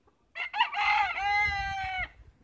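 A young rooster, a spangled stag, crows once, loud and close, a clear drawn-out cock-a-doodle-doo that ends abruptly.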